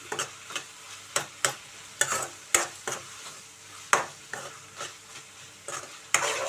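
Fresh hand-pounded ginger-garlic paste stirred in a hot pan for a brinjal and tomato curry, with a quiet frying sizzle under repeated sharp scrapes of the spoon against the pan bottom, close and irregular.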